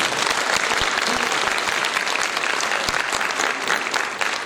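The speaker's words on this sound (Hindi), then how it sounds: "एक बार कान्हा के लिए तालियां।" Audience applause at a Hindi book launch ceremony, steady and loud from start to finish, a full crowd clapping continuously without pause.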